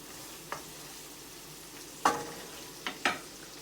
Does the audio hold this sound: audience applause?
no